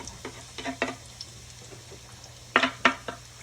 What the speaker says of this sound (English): Let me stir this up a little bit just to get the oil all over the pot.